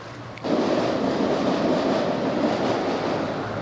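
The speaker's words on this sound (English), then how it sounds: "And the subway comes by there." A subway train rumbles past a London flat, a sudden loud roar that rises within a second and holds steady, broadband and continuous throughout.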